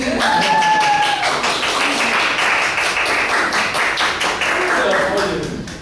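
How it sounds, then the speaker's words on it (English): A classroom round of applause for Mr. Rodriguez: steady, dense clapping from a group that holds for several seconds, with a few voices mixed in and the sound tapering slightly at the end. "Then give a round of applause to Mr. Rodriguez."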